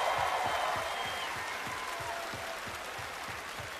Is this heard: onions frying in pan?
no